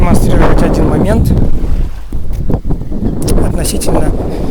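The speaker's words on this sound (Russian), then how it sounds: "Дует сильный ветер, наверное, будет плохо слышно." Heavy wind buffets the microphone throughout, a loud, rumbling roar with gusty surges, and a voice talks faintly beneath it, out on a boat at the mouth of the Kazanka River.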